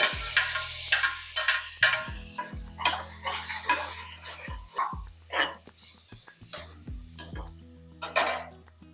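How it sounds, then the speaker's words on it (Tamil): Tomatoes are dropped into sizzling ginger garlic paste and stirred in a pot for country chicken soup, with repeated metallic scrapes and clinks of a spoon over a soft frying hiss, accompanied by background music. "இப்போ இதில் ரெண்டு தக்காளியும் இதில் சேர்த்துடலாம்"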